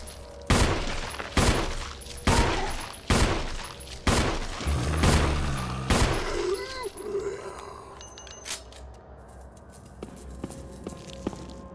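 Gunfire in the video game Resident Evil: a string of about seven sharp, loud shots at roughly one-second intervals, followed by quieter footsteps and game sounds.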